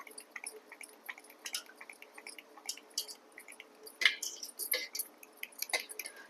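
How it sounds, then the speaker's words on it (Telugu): Buttermilk mixed with water is churned by hand, giving faint irregular squishy splashes and small clicks at close range. "చూడండి అలా వాటర్ యాడ్ చేసిన తర్వాత ఇలా చిలికేసుకోవాలి."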